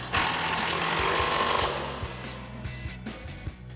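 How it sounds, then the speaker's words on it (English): A 15 mm bolt on a 2005-2014 Mustang coil-over suspension kit being tightened with a socket wrench, heard as a loud, steady mechanical rattle that fades into a series of short clicks. "we'll grab our 15 mil socket and tighten this down"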